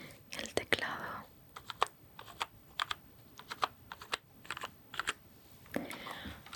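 Close, crisp computer keyboard typing in irregular bursts of clicky keystrokes, performed as an ASMR tickle sound, with a soft whisper at the start and near the end.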